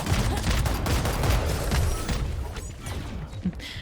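Rapid bursts of gunfire from a Valorant match fill a busy, loud stretch of shots and clattering mechanisms that thins out toward the end, with no voices on top.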